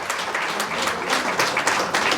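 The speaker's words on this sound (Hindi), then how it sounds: "समर्थ भाई को बड़ी तालियां से बधाई प्लीज।" Audience applause at a Hindu religious katha gathering in Coventry, UK, a steady crowd of clapping hands that fills the whole short stretch at an even, moderately loud level without any voices.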